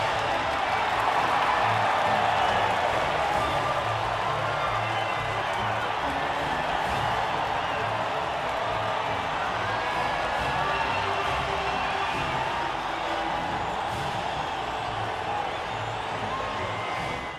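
A race-day crowd roars at the podium of the Vietnam Grand Prix in the F1 2020 video game, a dense, continuous wash of cheering and clapping that stays loud and even throughout.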